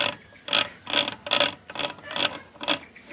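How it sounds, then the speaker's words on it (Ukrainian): Gearbox shaft of a Zubr walk-behind tractor turned by hand, giving a close, regular series of ratcheting metal clicks, about two per second, with no talking. "Ну сам вал, дивіться, він чітко крутиться"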